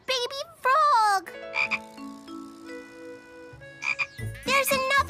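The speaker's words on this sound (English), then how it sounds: "A baby frog!" A baby frog in a children's cartoon gives bright, springy croaks in short bursts at the start and end, separated by a stretch of soft sustained musical tones.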